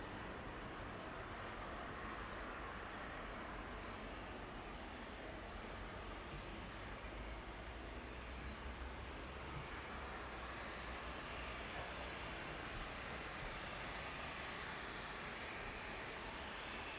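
A Boeing 737 jet arriving at East Midlands Airport in the evening, a steady broadband engine roar that holds loud and constant throughout.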